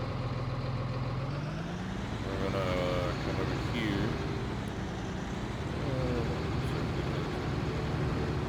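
Tractor engine in Farming Simulator 19 running at a steady, continuous drone with a low rumble that shifts slightly in pitch, close and loud throughout, while someone talks over it.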